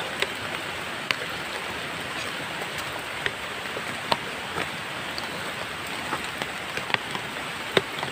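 Steady rain falling outdoors in dense brush, a continuous close hiss with scattered louder drops tapping nearby surfaces throughout.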